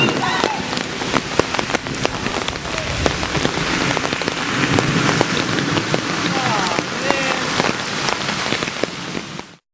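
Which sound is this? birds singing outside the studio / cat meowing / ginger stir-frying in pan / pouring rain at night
pouring rain at night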